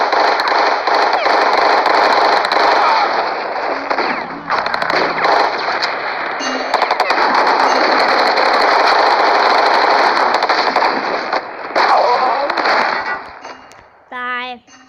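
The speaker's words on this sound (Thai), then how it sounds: "รับเป้าแล้วยิง" Dense, sustained gunfire and explosions roar from a shooting video game, loud and nearly continuous for many seconds before tapering off near the end.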